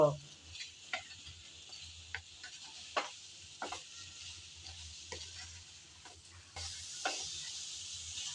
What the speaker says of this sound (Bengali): মশলাগুলো সব একসাথে দিয়ে আবারও ভালোভাবে নেড়ে চেড়ে একটু কষিয়ে নেব